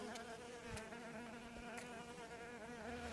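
Bees buzz around blooming maize stalks in a flight tent in a field, a faint, continuous droning hum with wingbeat tones wavering as they fly past.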